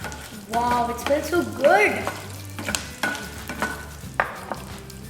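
Curry leaves hitting hot oil with red chili in a pan for curd rice, bursts of crackling sizzle and spoon stirring clatter, with someone speaking briefly over it.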